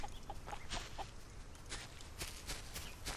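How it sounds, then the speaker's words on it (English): A chicken in the survival building game Solarpunk clucks in soft, repeated short notes over a constant noisy game ambience. "That chicken will be my friend."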